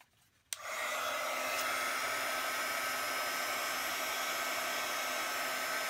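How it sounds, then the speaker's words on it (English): A heat gun clicks on and settles into a steady, loud whooshing blow that runs without a break, used to melt embossing powder on paper for a stamping project. "Make sure you keep the heat gun moving a little bit."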